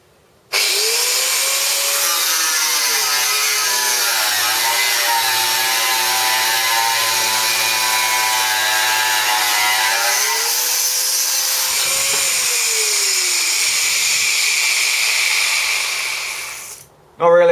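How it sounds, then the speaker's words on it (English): A corded Bosch 600 watt angle grinder with a standard cutting disc whines loudly and steadily through a cut, its pitch sagging under load and recovering, before it winds down at the end. "here's the corded one, the Bosch 600 watt one, just with a normal cutting disc on it as well"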